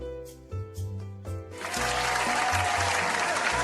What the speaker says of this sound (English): Round of applause for that for that segment.